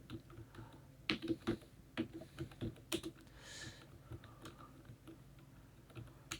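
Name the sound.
typing on a computer keyboard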